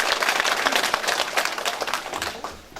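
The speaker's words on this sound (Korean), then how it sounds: "2동 주민 여러분들도 좀 힘차게 박수 쳐주세요" A hall audience at a Korean local council report meeting applauding, a dense, steady round of clapping that is loud throughout and tapers slightly at the end.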